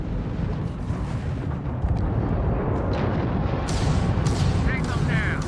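Spaceship weapons fire in the Starfield video game, a dense, continuous roar of booming shots and rumble with a few brighter bursts near the end, loud throughout.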